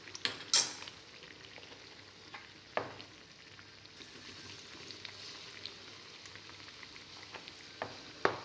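Spoonfuls of snack batter fry gently in hot oil for a Kerala teatime treat, a quiet continuous sizzle broken by a few sharp clinks and taps of a utensil, no talking.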